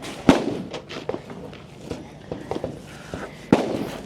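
Rifle and pistol gunshots at a shooting competition: two sharp reports a few seconds apart, set against scattered quieter thuds and background noise.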